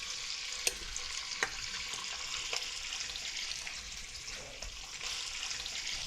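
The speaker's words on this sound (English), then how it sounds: "adding the shrimp to the pan is gonna cool the oil a bit" Salted shrimp hitting a hot pan of fried garlic, giving a steady moderate sizzle with a few sharp clinks and scrapes and no voices.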